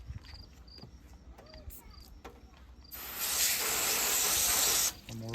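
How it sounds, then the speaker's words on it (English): A water sprayer hard-rinses a processed chicken, a loud steady hiss that starts abruptly midway and cuts off near the end, after quieter clinking and handling sounds with insect chirps in the background. "One more rinse, give the hard rinse."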